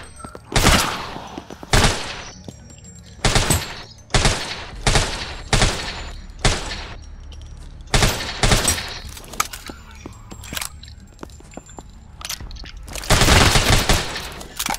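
Gunfire in a shooting video game: loud bursts of shots in repeated volleys, roughly a dozen separate clusters spaced a second or so apart, with a heavier sustained burst near the end and no talking.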